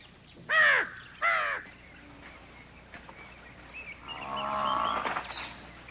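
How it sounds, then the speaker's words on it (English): Two loud, harsh caws from a crow ring out close by in morning light in an Asiatic lion forest, followed by a longer, drawn-out call over faint ambient background. "The crow is waiting in vain in the morning light."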